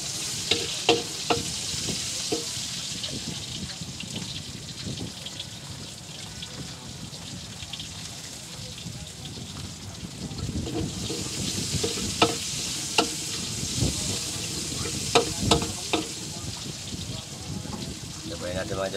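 Garlic and onion sautéing in a pan, a steady hissing sizzle with spatula scrapes and taps, growing louder midway as someone talks over it.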